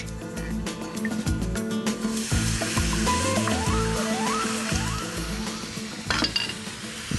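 Polenta and milk stirred in a pan, with repeated close scrapes and clinks of a utensil against the pan over a low sizzle, no talk.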